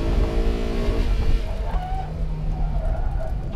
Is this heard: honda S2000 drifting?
yes